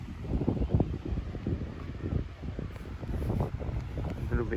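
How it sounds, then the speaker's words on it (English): Wind gusts buffet the microphone at the Lake Moogerah dam picnic area in Queensland, a continuous low rumble that rises and falls with the gusts. "A little bit windy."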